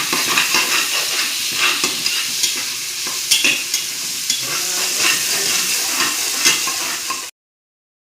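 Ginger garlic paste hits a hot pan for masala khichdi, giving a loud, steady sizzle and frying hiss with stirring scrapes throughout, cutting off abruptly near the end.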